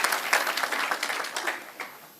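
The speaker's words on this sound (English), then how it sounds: "A round of applause once again, ladies and gentlemen, for these" A graduation audience at a City of Johannesburg skills development ceremony applauds in a dense, steady wash of clapping that swells early, then thins and fades toward the end.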